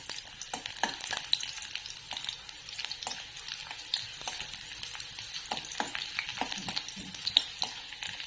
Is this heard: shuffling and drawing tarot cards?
no